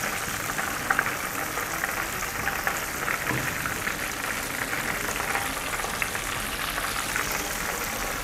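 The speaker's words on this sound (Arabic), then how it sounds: "وابتدي بقى انزلي بالقلية التانية لحد ما تخلصي كل كمية ايه السمك" Pieces of fish fry in oil, making a steady, dense crackling sizzle that stays even and close for the whole stretch, with no voices over it.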